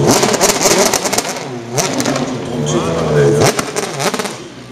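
A BMW M3 DTM race car engine roars on track, revving and shifting with rising and falling pitch, loud and close, while a commentator talks over it.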